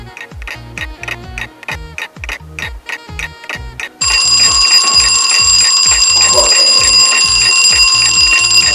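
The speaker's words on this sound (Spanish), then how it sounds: "tenemos que recurrir a un despertador gigante" A giant alarm clock rings loud and continuous from about four seconds on, following a run of steady, evenly spaced ticks.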